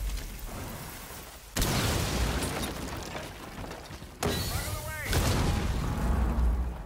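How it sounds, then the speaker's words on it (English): Two loud booming blasts from C4 and a grenade go off in the tactical shooter Rainbow Six Siege, each cutting in abruptly and followed by rumbling, crackling debris and mechanical clatter. "He threw a C4 at me, I threw a grenade."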